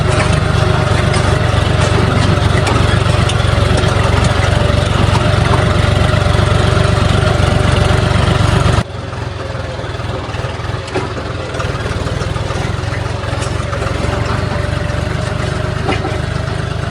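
A tractor's engine drones loud and steady as it drives through a large babul-tree forest, and the engine note dips slightly partway through before carrying on, with no talk over it.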